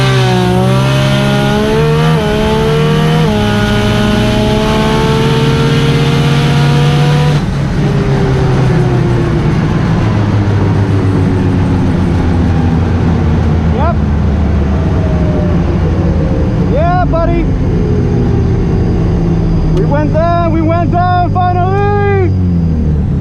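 A 1800HP six-cylinder Toyota Supra makes a drag racing run, its loud engine climbing through gears with rising harmonic sweeps, then fading into a distant rumble while an announcer talks over the race.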